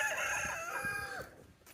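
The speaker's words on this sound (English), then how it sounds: "Here's our two favorite hens, Morsi and Yellow Hen." Backyard hens in a chicken run give a strong, rising crow-like call, loud and close, that trails off after about a second and a half and leaves only quiet background.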